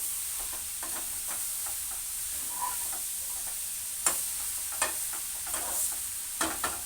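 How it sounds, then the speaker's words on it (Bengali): Banana flower curry with fish being stirred in a pan, a steady sizzle under scattered scraping knocks of the spoon, nearby and moderately loud. "সুন্দর করে নাড়িয়ে ছাড়িয়ে আমি একদম মিশিয়ে নেব"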